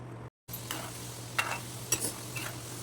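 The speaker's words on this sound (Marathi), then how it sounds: "मोदक आता तळून घ्यायचे तेल तापलेलं आहे" Modak frying in heated oil over a low flame, prepared as festival prasad: a steady soft sizzle with intermittent stirring clicks and brief crackles, close and moderately quiet, with a short dropout near the start.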